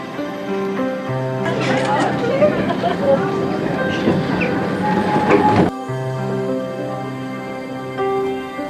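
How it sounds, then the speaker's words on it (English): Cable-hauled Great Orme Tramway tram, a public road tramway near Llandudno, rolling with a loud rumbling, rattling run for several seconds over a steady tonal background before cutting off abruptly. "The Great Orme Tramway is Britain's only cable-hauled public road tram"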